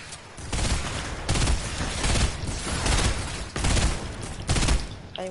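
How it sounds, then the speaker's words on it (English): Repeated heavy blasts from a rocket launcher in a shooter video game, several loud booming bursts spaced about a second apart over a dense background of continuous gunfire and explosions. "Oh, rocket launcher them."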